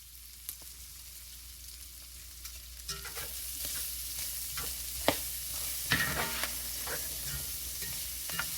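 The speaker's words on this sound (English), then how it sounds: "I'm going to go dump this in the skillet on the stove with the sausage so it can go ahead and get sauteed in with the sausage" Onion, peppers and minced garlic sauteing with sausage in a skillet on the stove: a soft sizzle swells as the vegetables go in, with close scraping and clacks of stirring, fairly quiet and without talk.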